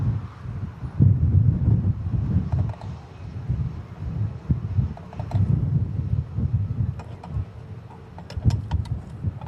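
Strong, gusty wind at Manchester Airport buffets the microphone, a low rumbling roar that surges and eases in waves, with faint scattered clicks over it.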